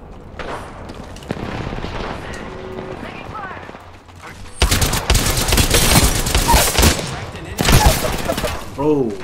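Bursts of Apex Legends gunfire crackle through a busy battle royale fight, with rapid volleys swelling louder in the second half among other game effects and players talking.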